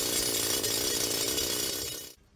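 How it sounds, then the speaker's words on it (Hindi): A drill machine bores a tunnel in a pink topaz mine, a loud continuous rattling grind up close that runs steadily for about two seconds before cutting off abruptly. "ये मजदूर ड्रिल मशीन से एक"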